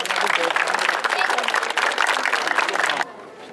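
Loud, dense applause from a crowd at a Turkish youth sports event, steady for about three seconds before cutting off abruptly, with voices mixed in.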